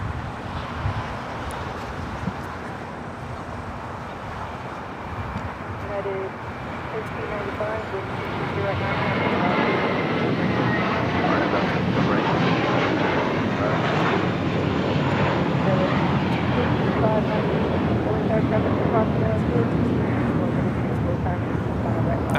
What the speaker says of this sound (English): That was the Element of Surprise taking off to Miami, Florida on an A321 JetBlue Airways flight 2885.